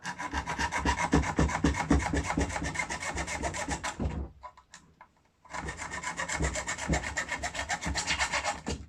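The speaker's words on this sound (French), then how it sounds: "vous prenez une lame de scie, et vous faites des entailles" A hacksaw blade rasps back and forth, cutting notches into a seized plastic nut under a toilet cistern. The strokes are steady and close, pause for about a second, then resume at the same pace.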